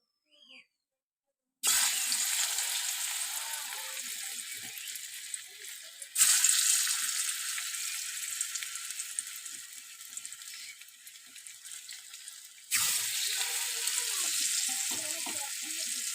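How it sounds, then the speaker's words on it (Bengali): Pieces of taro coated in sesame paste fry in white oil in a wok, with a continuous close sizzle that surges loudly three times as more pieces go into the hot oil. "এখন আমি ভেজে নেব। কড়াতে সাদা তেল দিয়ে দিয়েছি,"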